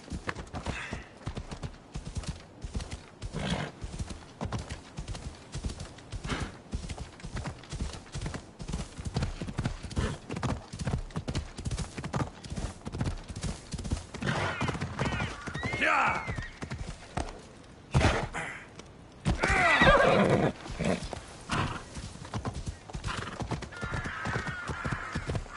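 Hooves clip-clop steadily as a horse gallops in the Assassin's Creed Odyssey video game, with loud whinnies and neighs breaking through near the middle and end, a rider's voice briefly urging it on.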